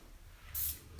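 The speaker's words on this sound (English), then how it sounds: "So I'm going to quickly teach you how to spray with purpose up here." A single short burst of hairspray hisses onto styled curls, fairly quiet against a faint background.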